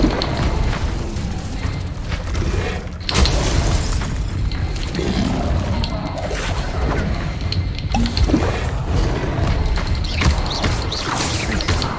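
Incendio fire spell cast in Hogwarts Legacy during combat, loud whooshing bursts and booming crashes layered densely over continuous game noise, with a sharp surge near the start and sustained roaring clutter after.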